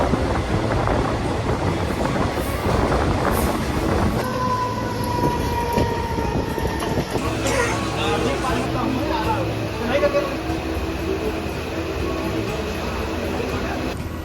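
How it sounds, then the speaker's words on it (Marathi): A Mumbai suburban train runs on past Dadar with a steady, loud rumble of wheels on rails, a rising squeal of wheels and rattling carriages throughout, and a voice partly buried beneath the noise. "ट्रेनच्या आवाजामुळे आपला आवाज जरा कमी पडतो"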